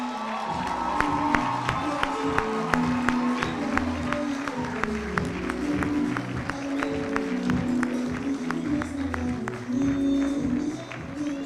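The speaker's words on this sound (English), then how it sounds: "And let's give them a clap" Audience at the IHTI 9th graduation ceremony in 2018 applauding graduates, with steady clapping alongside music-like tones and crowd murmur, lasting throughout at moderate loudness.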